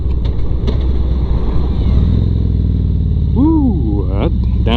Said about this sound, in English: I downshifted in the first.